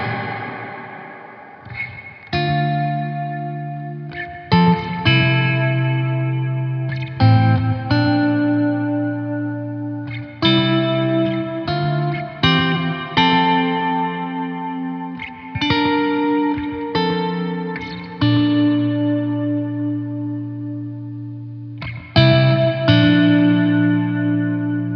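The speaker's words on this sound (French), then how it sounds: "Ce que j'aime bien faire avec la Strymon, c'est avoir une très grosse reverb, une reverb très large." Electric guitar played through a Strymon pedal set to a very large, wide reverb, with chords and notes ringing out into long washy tails, loud and close, the phrases separated by short gaps.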